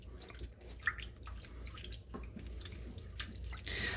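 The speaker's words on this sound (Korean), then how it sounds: "이것도 똑같이 겉면을 씻어 주시면서" Tuna being rinsed under running water, a soft, close trickle and dripping with faint splashes, quiet and steady throughout without any talking.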